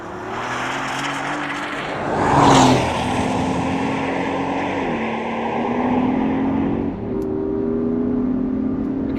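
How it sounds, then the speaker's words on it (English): A Porsche Cayenne Turbo E-Hybrid is driven hard on a race track. Its engine drones with a sustained tone that swells into a louder surge early on, then settles into a steady pull with small shifts in pitch. No one speaks. "here we are out on track in the regular turbo e-hybrid"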